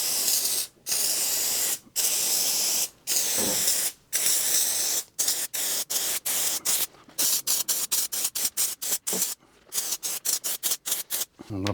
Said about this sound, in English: Spray a little bit of glue in the bin just to make sure it's spraying correctly